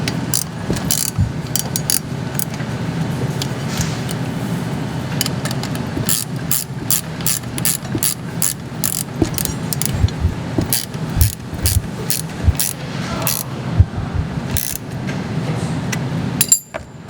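A socket ratchet tightens the battery cable terminal nuts on a Prowler, giving rapid bursts of close, crisp clicking in repeated strokes with brief pauses between them.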